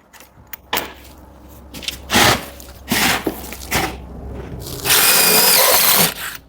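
A power drill bores through a 1.2 mm zinc plate in loud, close bursts of whining, grinding noise that start and stop several times, ending in one longer sustained cut.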